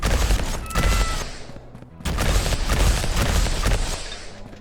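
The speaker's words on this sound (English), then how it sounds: "Submachine gun." Rapid submachine gun fire in the action game Vampire Hunters, a dense continuous fusillade with a brief gap in the middle, loud and close, layered with game impacts and thuds.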